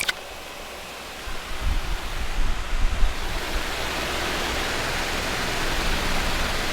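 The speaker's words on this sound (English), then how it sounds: "without the effects on, like, this is just the fan itself" A steady broadband whoosh of an electric fan running nearby, with a brief click at the start and slight low rumbling fluctuations.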